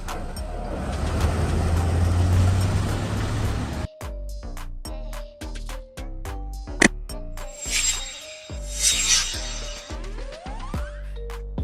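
A flatbed truck engine rumbles loudly and steadily for a few seconds, then breaks into a choppy series of short clanking bursts and rattles with brief gaps and a sharp clink near the end.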